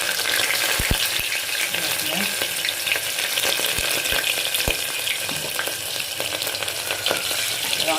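Onions fry in hot refined oil in a cooker for a pulao, giving a steady, close sizzle broken by a few sharp clicks of stirring.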